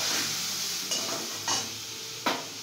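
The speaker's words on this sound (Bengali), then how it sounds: "এই পনিরটার সাথেই মশলাগুলো ফ্রাই করছে মা।" Paneer pieces fry with spices in a pan, giving a close, steady sizzle broken by three quick scraping stirs.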